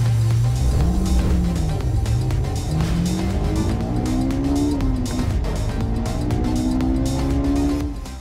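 A 2021 Ford Mustang Mach 1 with a Coyote V8 accelerates hard on a track, its engine note climbing through repeated gear changes, loud and close, with brief tire noise.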